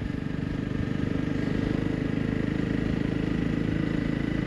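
A motorcycle cruising along a road produces a continuous low engine hum with a faint rhythmic pulse and steady wind rush, moderately quiet and unbroken.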